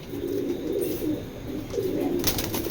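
Racing pigeons coo in a low, throaty, continuous murmur close by, with a brief rustle near the end and no talking.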